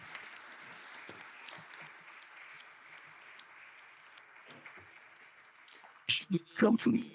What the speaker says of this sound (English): And you deserve a round of applause.